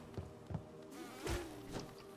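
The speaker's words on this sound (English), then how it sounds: "Every time I forget that there are actually little bees coming out." Small bees buzz in the video game Hollow Knight, a faint, wavering insect drone with a few soft pulses over about two seconds.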